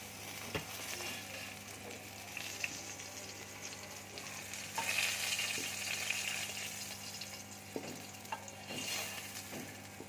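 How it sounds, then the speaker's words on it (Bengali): Sliced onions fry lightly in a pan for an egg curry, giving a soft, quiet, continuous sizzle with occasional faint clicks of stirring, heard close but low in level and without any talking. "পেঁয়াজটাকে আমি হালকা করে ভেজে নেব।"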